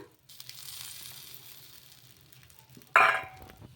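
Oil poured onto a wheat rava dosa frying on a hot pan crackles into a sudden, loud close sizzle near the end after a quiet, faintly hissing stretch.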